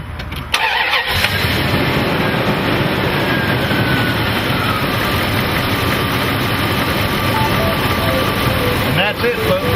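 A vehicle fitted with a DR365 hydrogen converter cranks briefly and catches, then its engine settles into a loud, steady idle close by, with a voice briefly audible.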